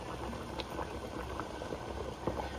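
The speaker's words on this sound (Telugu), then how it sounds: "ఇది ఉడకపెట్టి పక్కన పెడతాను రైస్." Rice boiling in salted water with ginger-garlic paste in a pot on a stove, a steady low bubbling and churning with soft pops, close and continuous at a gentle level with no voices.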